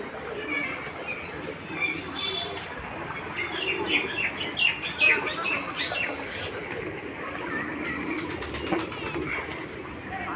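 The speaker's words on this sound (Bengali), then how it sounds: "এখানে অনেক পাখি আছে, কবুতর, বিভিন্ন প্রজাতির কবুতর আছে এখানে।" Pigeons of various breeds in the Katgola Palace aviary, sharing it with other birds, making busy overlapping calls with chirps and some wing flapping, a dense steady chorus at moderate distance, with faint voices in the background.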